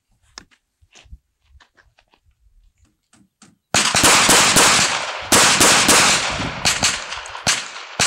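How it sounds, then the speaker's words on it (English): A SIG P365 9mm compact pistol fires rapidly at a 15-foot range, a burst of loud sharp cracks in quick succession after several seconds of faint handling clicks. "the SIG 365 at 15 feet, rapid fire"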